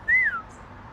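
A human voice imitates a ghostly whistle heard in the middle of the night, giving one clear, fairly loud rising-then-falling whistled tone that lasts under half a second and then fades, with no talking around it.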